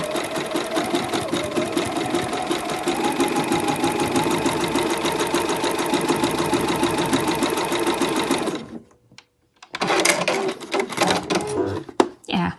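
A sewing machine runs steadily while stitching a close satin-stitch applique on fabric, a loud fast whirring rattle that stops briefly, then restarts in short bursts.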